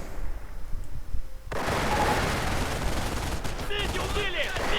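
Machine gun fire rattles in a Company of Heroes real-time strategy battle as a dense, continuous burst that cuts in abruptly after a quieter stretch of game ambience, with other battlefield sounds layered in toward the end.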